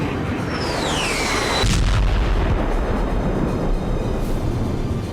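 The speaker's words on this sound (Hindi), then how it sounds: "नाटो की बैठक से 12 घंटे पहले यूक्रेन में रूस के बारूदी प्रहार का तूफान शुरू हुआ" Artillery fire during a Russian bombardment of Ukraine: a loud, low boom lands near the middle, preceded by a descending whistling sweep, all over a constant rumbling outdoor background with no talking.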